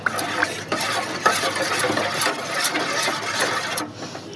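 Onions and other ingredients for a brinjal tamarind stew being mixed by hand in a bowl, giving a steady, close scrunching and stirring texture with a few sharper clicks throughout, and no one talking.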